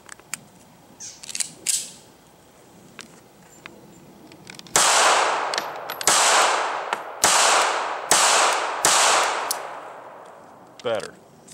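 A DiamondBack 380 pistol, just back from factory repair, fires practice ammunition in a run of loud, sharp reports, roughly six shots at about one-second intervals, each followed by a brief decaying echo, after a few lighter mechanical clicks and handling sounds.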